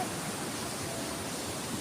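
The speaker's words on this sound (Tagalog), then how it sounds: "ang lakas ng alon" Strong ocean waves wash onto a beach at Anini-y, Antique, making a steady, dense roar of surf that stays close and even throughout, with no pauses and no talking.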